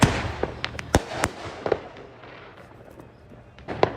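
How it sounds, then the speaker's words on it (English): Fireworks bursting over the Fourth of July, heard from a balcony: several sharp cracks and booms spaced irregularly across a few seconds, then a lull with a faint background rumble before another pop near the end. "Inspirational firework moment."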